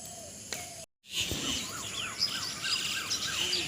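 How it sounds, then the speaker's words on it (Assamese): Small birds chirp and call outdoors in the early morning, a string of short repeated notes over a soft bed of insect and cricket buzz, moderately distant. "চৰাইবোৰ ওলালে।"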